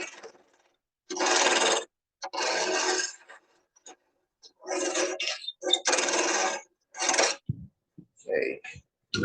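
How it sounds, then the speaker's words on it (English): A wood lathe parting tool cuts into a spinning wooden blank for a snowman, giving repeated rough rasping scrapes in bursts of one to two seconds separated by pauses, loud and close. "That's why I wanted to start it with my parting tool."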